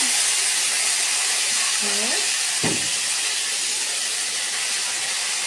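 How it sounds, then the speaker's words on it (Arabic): Vinegar is poured onto fried garlic in a hot pan, producing a loud, continuous broadband sizzle that fills the whole stretch, with a couple of brief voice sounds underneath. "وكده الثوم اتحمر، نحط حبه الخل"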